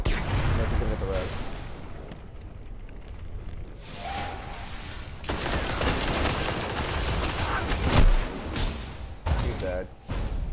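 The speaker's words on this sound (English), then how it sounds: "I shot both of them to make sure" Rapid gunfire and bursts of shots ring out in a first-person shooter match, loud and dense with mechanical clatter and whooshes, while a player talks over the action.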